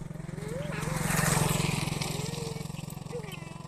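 A motorbike approaches along a road, its low engine drone swelling to a peak and then easing off, running steadily beneath close conversational voices.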